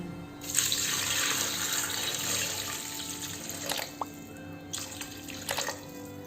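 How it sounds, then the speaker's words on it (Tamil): Water pouring into a pressure cooker while goat leg soup is being prepared, a steady close splashing flow with a few brief drips and clinks near the end, no voices. "நான் இன்றைக்கி ஒரு சொம்பு தண்ணி ஊற்றிருக்கேன்."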